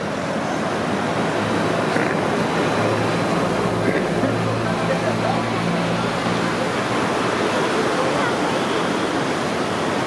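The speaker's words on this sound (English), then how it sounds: "Big waves here." Big ocean waves break and wash along a beach at Mazatlán on a summer morning, a steady, loud roar of surf that fills the whole stretch without pause, with faint low rumbles underneath.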